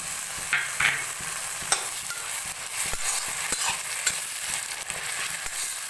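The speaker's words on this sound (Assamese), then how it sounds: "আৰু এতিয়া এইখিনি কেঁচা গন্ধটো যোৱালৈ ভাজিব লাগিব" Ginger garlic paste sizzles and fries in a hot pan with cinnamon and cardamom, a steady crackle and occasional scraping clicks of a spoon stirring.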